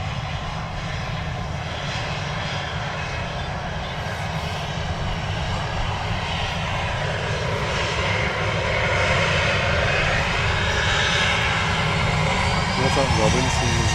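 A British-registered Ryanair jet airliner powers up loudly at Manchester Airport, its broad roaring engine noise steady and swelling slightly toward the end, with people talking over it.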